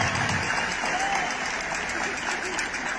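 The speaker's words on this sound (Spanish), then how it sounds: "un fuerte aplauso para la gobernadora" A crowd gives loud, sustained applause to a state governor at a sports event, a dense and steady wash of clapping from many hands throughout, fairly near and unbroken.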